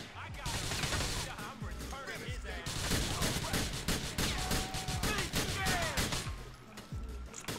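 Gunfire aimed at the player in GTA 4, with rapid bursts of shots and crashing impacts that run almost continuously, while someone talks over the shooting.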